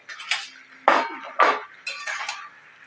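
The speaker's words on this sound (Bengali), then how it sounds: "তো এবার আমি ঢাকনাটা খুলে দেখব।" A lid lifted off a cooking pan of vegetables, heard as a few close metallic clanks and scrapes in quick succession, loud and alone.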